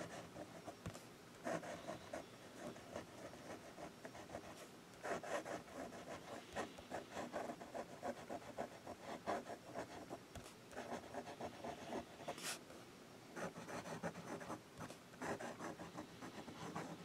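An extra fine fountain pen nib scratches over paper in quick swirls, a faint, close, papery rasp in short irregular strokes with brief pauses and no voices.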